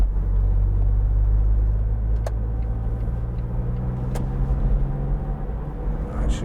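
A 2004 Smart fortwo 0.7 City Passion three-door heard from inside while driving and braking: a steady low road and engine rumble with a couple of faint clicks, no talk.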